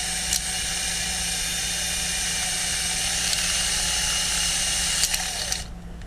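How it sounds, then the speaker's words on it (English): A power drill bores out a screw hole in a broken boat hatch latch, giving a steady whining drone with high harmonics and a low hum that runs unbroken for several seconds before cutting off near the end. "I'm going to try to drill that out."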